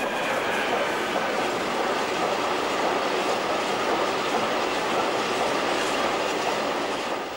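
A class 185 electric freight locomotive with its train rolls by in the Elbe valley as a steady, loud broadband rumble with wheel clatter, heard close and continuous throughout.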